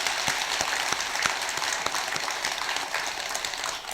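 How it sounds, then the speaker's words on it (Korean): Applause from a Buddhist temple assembly at a first-day-of-the-month dharma service, a steady crowd of hands clapping for four seconds with distinct sharper claps standing out, moderately near and without voices. "우리 박수 한번 쳐야 돼요."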